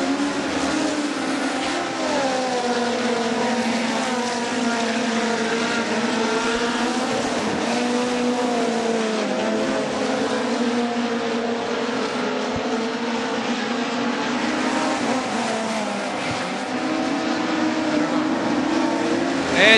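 Midget race cars roaring around the Belleville track during a national midget event, several engines droning and revving together in a loud continuous blend with pitch sweeping as cars pass, under faint commentary.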